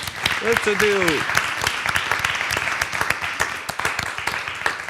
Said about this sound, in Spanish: Pues un aplauso para Bernal.